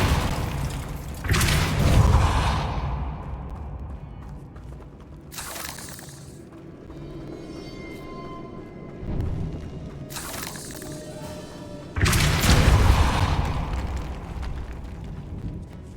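Depulso force spells go off in Hogwarts Legacy, heard as several separate booming blasts with crackly bursts, spaced a few seconds apart. Between them comes quieter ambient game noise and mechanical clicking.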